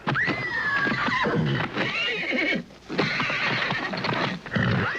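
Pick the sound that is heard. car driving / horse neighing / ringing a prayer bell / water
horse neighing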